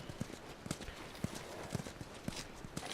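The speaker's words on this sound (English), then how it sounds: "You guys have horses." Horse hooves clip-clop in The Last of Us, a steady, fairly faint walking rhythm of hoofbeats at mid distance with a soft background bed.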